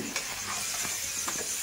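Meat frying in a pan gives a steady, close sizzle with faint stirring clicks throughout, and no talking.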